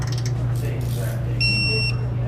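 A high beep from an electronic torque wrench sounds once, held for about half a second, over a steady low hum and faint background noise, during a Jeep build.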